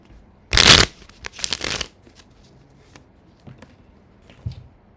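A deck of cards riffle-shuffled up close in a quick loud burst, then a few softer taps and card handling sounds in a quiet room.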